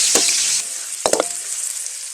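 Garlic and chili frying in hot oil for pancit bihon, a bright close sizzle with a couple of sharp spatter pops and clinks before it settles.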